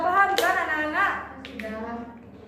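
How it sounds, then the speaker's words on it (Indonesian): Classroom applause as a teacher leads children in clapping, a brief burst of hand claps mixed with her speaking voice and the chatter of children. "Tepuk tangan untuk kita semua"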